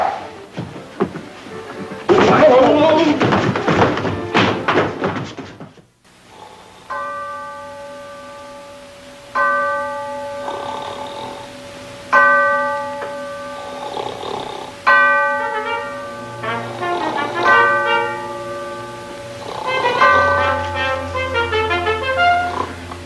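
A ship's bell strikes four times at even intervals, each stroke ringing out with a resonant, lingering tone. A loud burst of noise comes before the strikes, and other clatter follows them.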